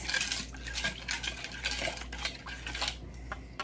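Glass noodle and shrimp salad with lime gets mixed in a bowl, with a busy run of close clinking and scraping from utensils against the dish and no talking.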